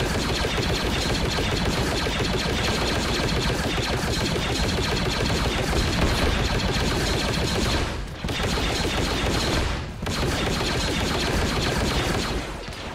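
Blaster rifles in a Star Wars combat sim fire in loud, rapid, continuous bursts that barely let up. There are two short breaks near the end.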